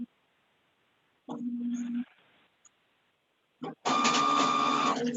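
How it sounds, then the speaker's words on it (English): A printer whirs and feeds paper in short bursts, first a brief mechanical run, then a louder sustained printing passage with a steady tone. "That noise is a printer going off in the background."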